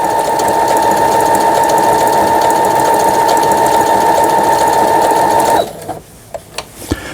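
A Brother CS6000i computerized sewing machine hums at a fast, steady whir close by for several seconds, then stops, leaving a few soft clicks and taps.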